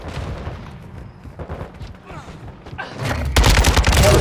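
Gunfire in the video game Call of Duty: Modern Warfare II rattles in dense, rapid bursts under a player's talk, swelling into loud, heavy sustained shooting near the end.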